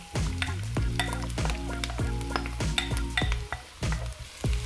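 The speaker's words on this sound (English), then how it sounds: "I got a few tablespoons of oil here and then get the onions in here." Onions frying in a few tablespoons of oil in a Dutch oven while being stirred for a curry, a steady sizzle broken by repeated scraping and clinks of a utensil against the pot.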